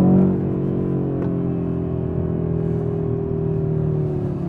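Audi RS3 with a five-cylinder 2.5-litre turbocharged engine, heard up close as a loud, droning hum with strong, evenly spaced harmonics after a brief initial surge, settling into a steady cruise with no talk.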